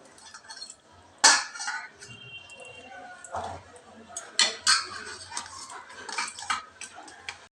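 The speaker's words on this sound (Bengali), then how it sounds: "এরপর আলুগুলো ম্যাশ করে নেব।" Boiled potatoes and grated carrot being mashed in a bowl with a utensil, sparse clinks and scraping knocks against the dish at irregular intervals, close and moderately loud.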